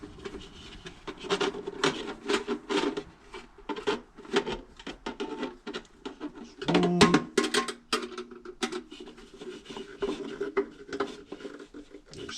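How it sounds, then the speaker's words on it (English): A Phillips screwdriver tightens screws on a metal halide light fixture during an LED bulb swap, producing close, intermittent scraping and rasping turns with brief clicks and metallic clatter in uneven bursts. "Take a Phillips, and we're going to tighten them both down."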